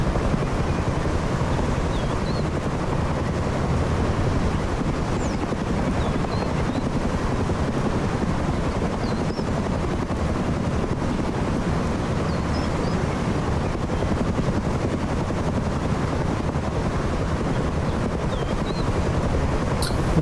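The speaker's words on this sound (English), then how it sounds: "It's the attack helicopter." Attack helicopter in the video game Rust, its rotor a steady broadband drone that holds unbroken for twenty seconds, fairly loud and continuous with no voices over it.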